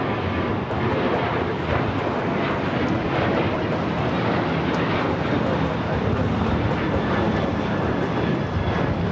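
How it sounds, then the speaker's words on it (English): A cargo Airbus A330 departing from the south side at LAX, a steady broad jet roar held at a constant loud level throughout, with faint speech-like traces over the engine noise. "still waiting on that awesome cargo, A330. Should be taking off here on the south side"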